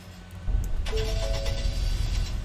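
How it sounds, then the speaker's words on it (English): A 2021 Ford F-150 pickup truck engine cranks and catches, then settles into a low, steady idle, with a brief electronic chime sounding just after it starts. "let me turn the sound up so you guys can hear the truck start"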